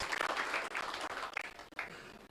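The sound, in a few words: audience applause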